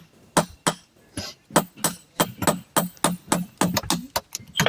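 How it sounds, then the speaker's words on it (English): Metal hammer striking a chisel on a rock ledge at a geology class, a dozen or more sharp ringing blows in a steady, quickening rhythm, close and distinct. "All right, Nora, you want to chisel around that and see if you can get it to pop out?"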